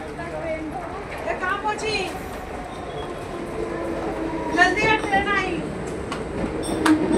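Mumbai local train rumbling into a suburban station, a steady rolling rail noise with brief squealing and clanking wheel sounds building toward the end, heard under background talk.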